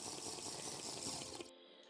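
A character in the video game Crash Landing drinks water, a short gurgling, pouring liquid sound that cuts off abruptly.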